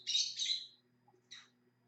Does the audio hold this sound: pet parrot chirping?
yes